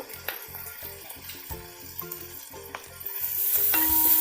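Home-ground turmeric powder fries in a pan while pathila thoran, a Kerala leafy stir-fry, is being made. A steady close sizzle is broken by rhythmic stirring scrapes and swells louder toward the end, with no voices.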